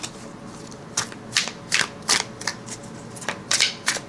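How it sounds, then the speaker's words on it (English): Overhand shuffle of a glossy varnished tarot deck, a string of about ten crisp, slippery card riffles in quick irregular bursts, close and alone without speech. "overhand shuffle seems nice"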